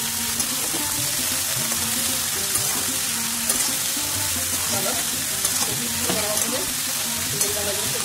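Bay leaves and spices fry in a hot pan with a steady, close sizzle, stirred now and then, while cooking continues for a Bengali cauliflower bhapa pitha.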